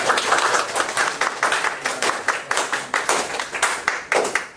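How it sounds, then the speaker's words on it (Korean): Audience clapping at a church learning-coaching seminar to welcome a visiting pastor, a steady rhythmic patter of many hands with distinct claps standing out, close and moderately loud, with no voices over it. "자, 우리 목사님 어려운 걸음 하셨는데 오셨는데 박수로 환영하겠습니다."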